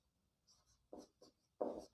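Short strokes of a pen or marker writing equations, a few quick scratchy bursts separated by brief pauses, close and quiet with no speech.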